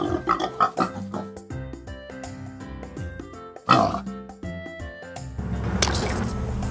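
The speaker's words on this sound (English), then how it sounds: "Pig." A cartoon-style pig oinking in a series of short squishy grunts over light background music, with a brief louder squelch midway and a noisier stretch at the end.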